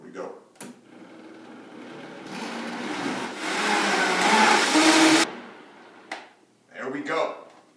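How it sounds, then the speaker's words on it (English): A blender whirs for a few seconds, rising to a loud buzzing grind before cutting off, with brief talking before and after. "Back on the blender."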